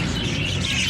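Pet keets eating rice chirp in a cluster, a steady chatter of high twittering calls close by over a broadband background, with no talking.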